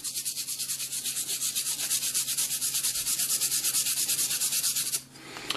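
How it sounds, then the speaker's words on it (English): A brass brush scrubs a Bondo seam with fast, rhythmic back-and-forth rasping strokes, close and steady for about five seconds before stopping. "I hit it with a brass brush."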